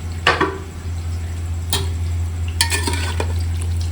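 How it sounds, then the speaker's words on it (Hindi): Chopped onion fries in cooking oil for a Pakistani-style mutton pulao, giving a steady sizzle over a low hum, broken by a few brief scraping stirs and utensil clinks. "1 चॉप किया हुआ प्याज ऐड कर दिया। लाइट ब्राउन होने का वेट करेंगे।"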